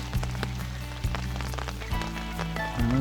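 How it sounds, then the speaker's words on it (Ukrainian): Steady rain patters on two large umbrellas sheltering a fishing spot with no wind, a soft, even drumming of drops with a few heavier taps, faint and close. "Так і є дощ іде, але і вітру немає"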